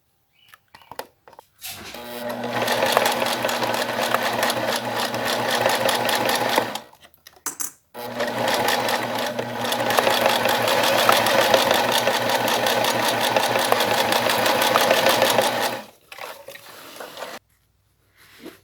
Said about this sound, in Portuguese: Então, já costurei as 4 caixinhas de leite do corpo da peça